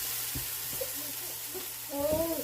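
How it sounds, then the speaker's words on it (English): Onions and mushrooms stirred and sautéed in a Ninja Foodi Possible Cooker Pro, faint sizzle with a few spoon scrapes and knocks, close and quiet, with a brief voice near the end. "giving my onions and mushrooms a stir real fast"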